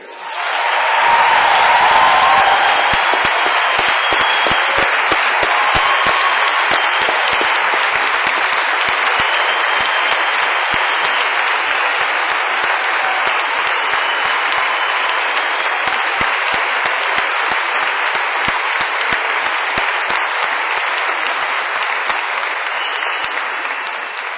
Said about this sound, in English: All a round of applause